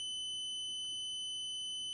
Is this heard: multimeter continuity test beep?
yes